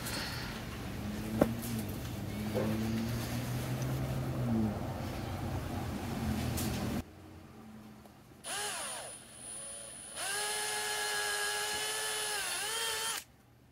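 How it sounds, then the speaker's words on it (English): A power drill bores bolt holes in a homemade towfish body, with bursts of whirring at changing speeds, including a long steady spin near the end, close by. "Next part was to drill the holes for the bolts."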